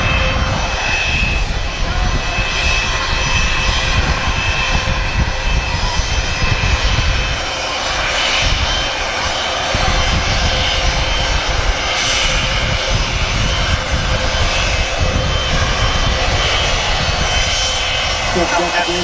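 Jet engines of a Virgin Atlantic Airbus A350-1000 at Manchester Airport roar in a loud, broad, sustained rush that swells and eases, with people talking over the engine noise.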